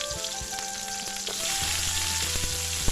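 Small shallots, garlic and ginger sauté in a pan for a coconut sambal, giving a steady close sizzle with a few stirring scrapes and knocks and no voices.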